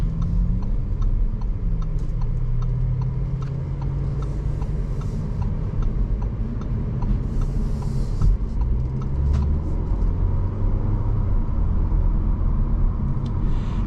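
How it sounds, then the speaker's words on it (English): A 2023 Audi A4 45 Prestige with a 2-liter four-cylinder pulls steadily under throttle on the road, giving a constant low rumble heard from inside the car, with faint ticking over it and no talk. "this 2-liter 4-cylinder actually does sound pretty good for a 4-cylinder"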